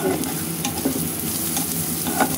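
Dried red chilies frying on a hot tawa, a steady close crackling sizzle with scattered sharper pops and scrapes throughout.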